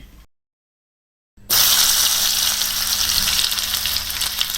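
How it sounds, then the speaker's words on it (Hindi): Tadka spices crackle and sizzle loudly in hot oil, a dense burst of frying hiss that starts abruptly after a brief silence and keeps crackling close up. "एकदम से ये चीज़ें क्रैकल होनी शुरू हो जाती हैं"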